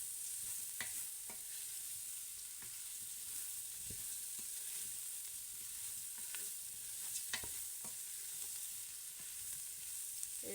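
Onions and carrots are stirred in a cooking pot for lentils, a spoon scraping and clacking now and then over a steady, soft sizzle with no voices.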